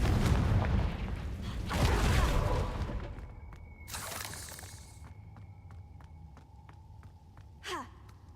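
A Confringo blasting spell in Hogwarts Legacy bursts in loud rumbling blasts with a sharp whooshing crack, followed by a quieter stretch of faint ticking and a final swoosh.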